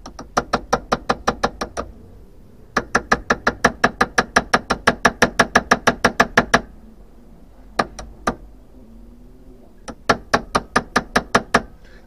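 A metal tool is tapped into rock to split it during fossil preparation, producing rapid sharp clicking taps in several quick bursts, loud and close, with short pauses between runs.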